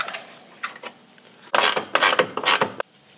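Ratchet snugging up leaf spring shackle bolts: a few faint clicks, then a burst of loud, rapid ratcheting strokes at close range, with no talking.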